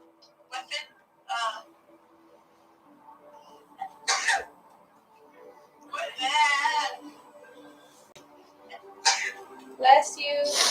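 Several people chat in a quiet room and one of them sneezes abruptly partway through. The talk is in short bursts with pauses between.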